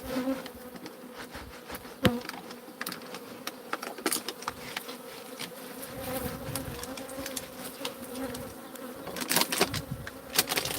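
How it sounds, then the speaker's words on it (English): Bees buzz persistently in the Nasty Neighbors video game, a close, wavering insect drone with scattered clicks and taps throughout, no talking. "These are really bad bees."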